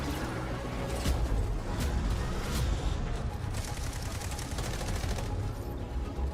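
Steady rattle of automatic rifle fire from a Delta Force warfare match, dense and continuous throughout with scattered sharper shots, and no talking.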